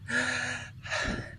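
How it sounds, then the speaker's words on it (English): One person does circular breathwork through the mouth, drawing a sharp, audible breath in and then pushing a breath out after a short pause. Both breaths are close and loud, and no one speaks. "It's this circular way of breathing"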